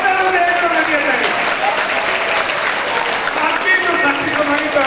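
Audience at a school award ceremony in Hanumangarh claps loudly and continuously, a dense sustained round of applause with a voice talking over it.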